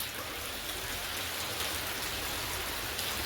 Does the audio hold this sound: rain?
yes